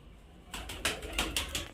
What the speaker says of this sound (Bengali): এই যে দেখতে পাচ্ছেন খুব সুন্দর কোয়ালিটির পায়রা এবং খুব সুন্দর ওড়ানের পায়রা